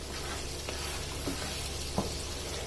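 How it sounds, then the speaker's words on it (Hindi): Ground spices such as coriander powder roasting in oil in a karahi for mutton karahi, a steady close sizzle with a few soft stirring scrapes spaced apart. "और अब इन मिसालों को भी इसमें तकरीबन 1 से 2 मिनट तक भून लेना है"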